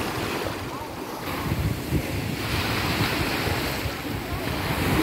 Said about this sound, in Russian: Сегодня море такое немножко штормит, но в принципе вчера был еще сильнее штормик.